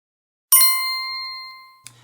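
A single bright notification bell ding rings out after a brief silence, its clear metallic tone decaying over about a second, followed by a small soft click.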